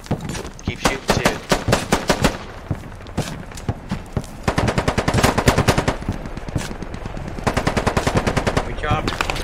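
Rapid bursts of machine gun fire in the Squad video game, with insurgents under heavy fire on the Kohat map, repeated volleys loud and close throughout, some overlapping and continuous.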